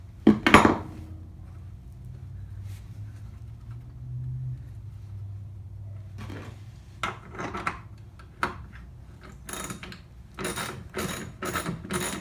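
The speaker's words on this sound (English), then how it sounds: "just loosen the bolts up, lefty loosey, righty tighty" Bolts are loosened on a wheel of a Honda HRR216 push mower, producing scattered metallic ratchet clicks and clanks, a brief rattle at the start and a quick run of sharp ticks near the end, with no talking.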